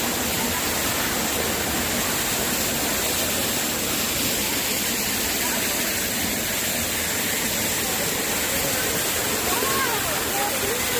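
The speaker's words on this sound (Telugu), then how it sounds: "మనం ఇప్పుడు కపిల్ ధార వాటర్ ఫాల్ దగ్గర ఉన్నాము" Kapil Dhara waterfall on the Narmada river at Amarkantak, a steady broad roar of falling water heard from nearby, constant throughout.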